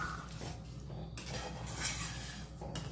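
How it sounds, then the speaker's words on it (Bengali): Navratna korma with fresh cream being stirred in a pot, with soft scraping and clinks of a spoon against the metal sides, close and steady against a low background hum. "ক্রিমটা দিয়ে আরেকটু নেড়ে নিচ্ছি"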